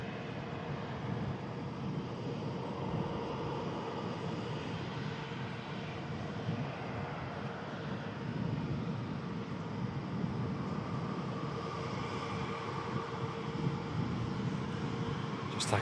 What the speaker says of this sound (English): Just taxiing past now. Let's just get a quick shot of that. Nice quick taxi for the Qatar Airways A350